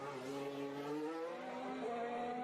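Sebastian Vettel's Formula 1 car finishes a qualifying lap at Monaco, its high-pitched engine wailing in a steady, rising drone with clear harmonic tones as it holds speed, heard at a moderate distance under faint background broadcast sound.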